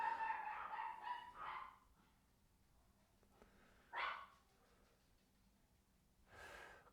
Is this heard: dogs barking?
yes